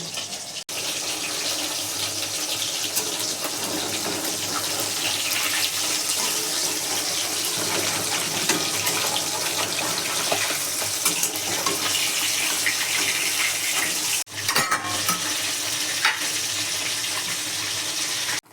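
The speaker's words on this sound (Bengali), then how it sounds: "ওদিকে ভোলা মাছগুলো ভাজা ভোলা মাছগুলো ভাজা হচ্ছে" Bhola fish fry in oil, producing a loud, continuous, rushing sizzle that barely changes for nearly twenty seconds apart from a couple of brief dips, heard close with nobody speaking.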